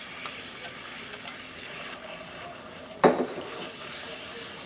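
Cream poured into melted butter in a pan for caramel sauce, giving a short, sharp sizzle and splash partway through over a steady low background hiss.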